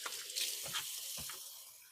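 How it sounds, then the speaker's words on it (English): Water runs steadily from a kitchen faucet as hands are washed beneath it, a close, continuous hiss with soft splashing shifts and no talking. "I'm gonna give my hands a quick wash."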